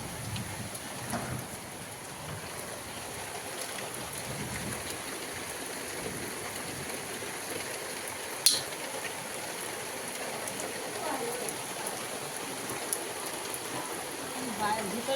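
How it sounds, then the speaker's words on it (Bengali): Steady, even rain falls throughout, a dense wash of patter with one sharp tap partway through; no clear thunder rumble stands out. "দেখো বৃষ্টি শুরু হয়ে গেছে এই যে দেখতে পাচ্ছ মেঘ ডাকছে বৃষ্টি হচ্ছে"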